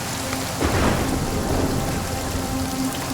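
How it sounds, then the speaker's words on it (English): Pouring rain with thunder in a forest at night, a dense, steady roar of rainfall with a deep rumble of thunder swelling early and lingering beneath the downpour. "In the middle of the pouring rain"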